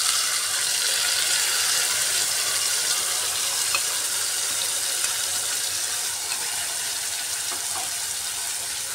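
Potatoes and tomatoes sautéing with a ground spice paste in a pan for a rohu fish curry, a steady, loud, hissing sizzle that fills the whole stretch without pause.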